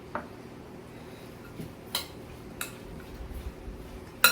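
Jicama salad tossed with cilantro in a bowl, quiet and close, with a few scattered clinks and taps of a utensil against the dish amid light rustling.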